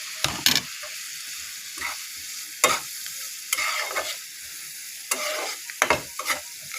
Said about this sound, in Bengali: এখন আমি এই যে ভাজা ডিম আর নাড়িটা দিয়ে দিচ্ছি।